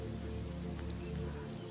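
Steady rain falling in Dharamshala, a constant soft patter heard alone at low level, with a faint hum underneath.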